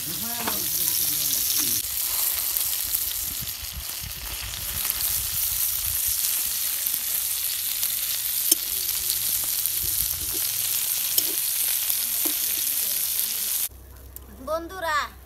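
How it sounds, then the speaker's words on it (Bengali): Fish frying in a pan gives a steady, loud broadband sizzle that runs for most of the clip, with occasional crackles and stirring sounds, then cuts off near the end, where brief speech-like sounds follow. "মাছ ভাজা হয়ে গেছে গা"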